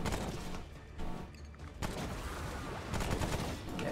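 Gunfire in the co-op video game Remnant: From the Ashes, loud, dense bursts of rapid shots and heavy booms that keep coming through the whole stretch, with no clear talk over them.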